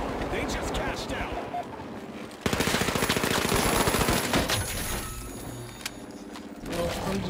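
In the video game THE FINALS, dense automatic gunfire rattles in long rapid bursts over a busy mix of explosions and mechanical noise, with a player talking throughout.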